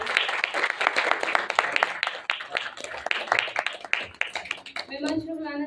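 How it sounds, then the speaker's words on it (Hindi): An audience claps for the musicians after a Banaras gharana vocal and tabla performance, with scattered, irregular hand claps fading out as a voice begins speaking at the end. "एक बार फिर से जोरदार ताली हो जाए हमारे कलाकारों के लिए।"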